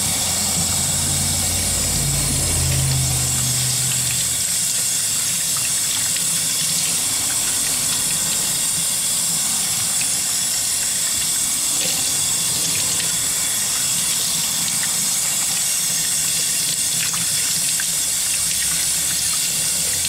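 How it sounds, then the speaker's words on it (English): Tap water runs steadily into a sink while raw he'e (octopus) is rinsed of salt, a continuous broadband gush with faint low rumble near the start and no talking. "you want to take it out and rinse it off really well with water"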